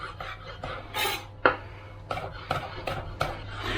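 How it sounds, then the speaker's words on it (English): A knife chopping spring onion finely on a board, a handful of distinct close knocks and clatters at uneven intervals over a low steady background hum, with no voices. "We're just going to super fine slice some spring onion."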